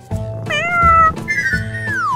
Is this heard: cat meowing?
yes